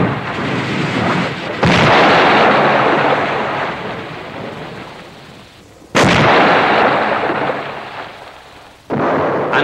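Heavy enemy artillery fire during a wartime bridge construction, with loud booming blasts rolling into long rumbling decays, three big impacts in close succession over a constant roar.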